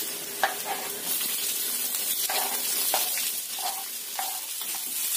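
Sliced onions hit hot oil in a pan while cooking an Indonesian green vegetable dish, giving a steady close sizzle with occasional stirring scrapes and clinks.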